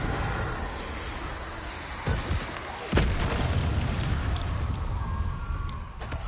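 Confringo fire spell blasts in the video game Hogwarts Legacy: a dense roaring game soundscape with a low boom near two seconds and a sharper, louder explosive burst just before three seconds, then sustained rumbling.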